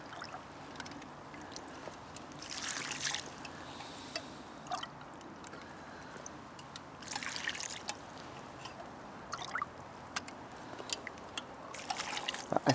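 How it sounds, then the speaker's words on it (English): Water trickles and streams into a hand-dug gypsy well at a November bushcraft camp, a soft, close, continuous dribble with occasional brighter splashes and drips, no voices. "I can see water starting to stream in."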